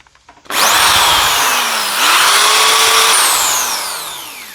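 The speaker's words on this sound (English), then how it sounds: "If I had to fire up this Ryobi drill, this is 500 watts." A 500-watt Ryobi corded drill starts with a click and whirs at high speed, loud and close, its pitch rising and settling before slowly winding down.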